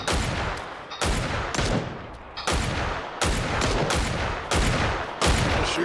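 Gunfire in the battle royale video game PUBG: loud, close bursts of shots follow one another at roughly one-second intervals, each cracking sharply and trailing off in a reverberant echo, with no talk.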